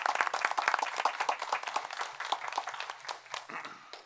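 Scattered applause from a small audience at a town board meeting, dense hand claps for about four seconds that thin out and fade toward the end.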